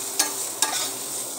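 A pot of goat meat curry cooks with a soft steady sizzle on the stove, and two quick scraping strokes of a spoon stir it, close and clear with no talking.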